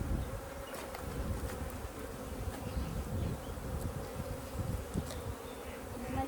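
Honey bees buzz steadily at an opened hive during a queen check, a dense, continuous hum that stays close and even throughout with no voices.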